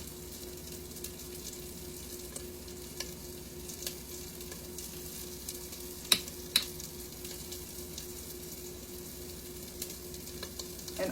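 Pork sirloin steaks topped with minced garlic brown in a pan, a faint continuous sizzle with occasional small crackles and a couple of brief sharper pops, quiet and without voices.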